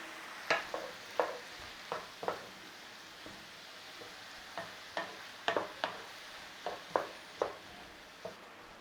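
Soft, quiet sizzling of ground beef in a pan with a glug of Worcestershire sauce, with scattered light clicks and scrapes of a utensil stirring at irregular intervals and no talk.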